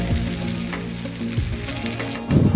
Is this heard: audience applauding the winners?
no